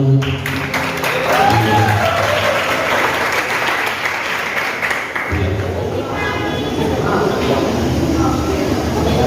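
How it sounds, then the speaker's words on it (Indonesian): A crowd applauds steadily for several seconds at a send-off ceremony for graduating students of a Christian theological secondary school, with a voice speaking over the clapping early on. "kita berikan tepuk tangan yang meriah"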